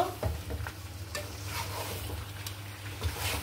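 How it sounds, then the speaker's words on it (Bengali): Meat stir-fried in a pan crackles and sizzles steadily, with repeated stirring scrapes and light clinks of the utensil against the pan, close by and fairly quiet, and no one speaks. "এই যে এইভাবে আরও কিছুক্ষণ আমি ভাজা ভাজা করে কষিয়ে নিব।"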